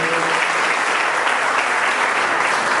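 Loud, steady applause from a church congregation, thick continuous clapping close and even throughout the short stretch, with no break in it.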